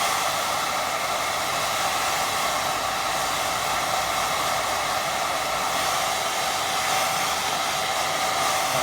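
A hair dryer blows over a watercolour painting of buildings and fields, a loud, steady, close whooshing roar with a faint whine, unbroken for the whole stretch.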